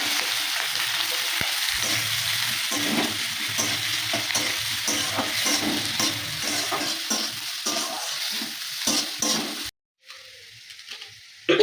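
Chopped ginger, green chili, onion and garlic fry in a pan with a constant loud sizzle and frequent scraping stirs, then a brief silence and a quieter clink of utensils.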